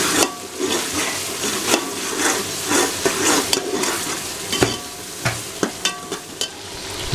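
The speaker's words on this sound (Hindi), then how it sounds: "और अच्छे तरीके से फ्राई करेंगे।" Tomato and chilli masala seasoned with salt and turmeric fries in a pan, a steady close sizzle broken by periodic sharp scrapes and taps of a stirring spoon against the pan.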